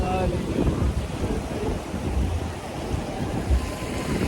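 Ocean surf at Gorai beach in Mumbai, a continuous broad roar of breaking waves mixed with gusting wind rumble on the microphone, loud and unbroken.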